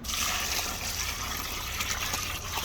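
Water from a container pours steadily into a bucket of cement mix made from a 25 kg bag, with a continuous hissing, splashing stream for the whole stretch. The pour sounds close and fairly loud, and no one speaks.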